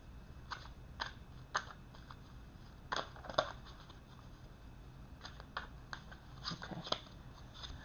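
Tarot cards being shuffled by hand, giving soft irregular riffling and slapping bursts scattered across a quiet room, fairly close but low in level.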